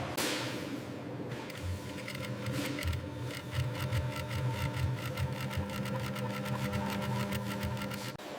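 A sewing machine stitches bison leather in a factory, running as a fast steady mechanical whir and clatter that stays close and continuous throughout.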